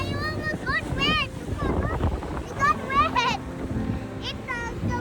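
Strong wind drives waves against the shore of Lake Como. The wind keeps up a steady, close rumble buffeting the microphone while someone talks over it.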